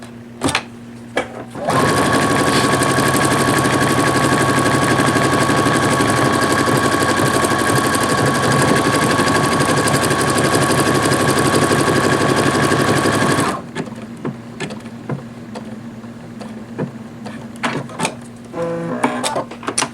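Sewing machine running steadily for about twelve seconds as it stitches a buttonhole and cuts it open automatically, a loud continuous mechanical whir with faint handling noises before and after.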